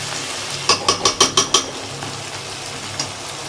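Onions and tomatoes cook in a pan under a low, steady sizzle. A quick run of about six sharp scraping strokes of a spatula comes close up, and one more scrape follows a moment later.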